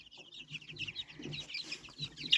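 Young chicks in a brood troubled by feather-pecking cannibalism cluck and peep continuously and fairly close, with overlapping chirps and soft low clucks and no talking.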